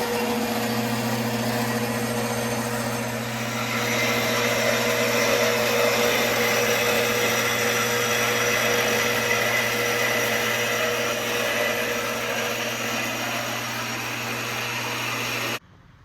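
Steady machine drone with a low hum and broad hiss while a metal part from a long-stalled car is cut through at both ends, continuous and fairly loud for about fifteen seconds before stopping abruptly.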